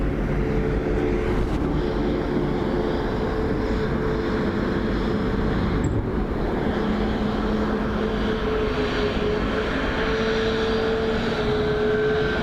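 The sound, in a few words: Ryanair airliner landing on runway 28 left, Dublin Airport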